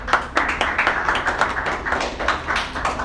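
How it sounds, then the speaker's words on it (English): An audience at a DeFi conference in Ho Chi Minh City applauds after a talk, a brief burst of scattered, fairly close clapping with irregular claps standing out. "Another round of applause for Loi."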